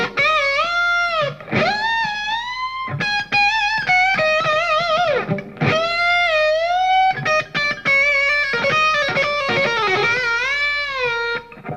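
An electric guitar with effects plays a long, continuous phrase of string bends, notes sliding up to pitch and sweeping back down, loud and close with only brief gaps.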